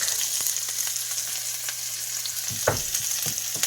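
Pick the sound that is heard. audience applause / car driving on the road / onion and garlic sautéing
onion and garlic sautéing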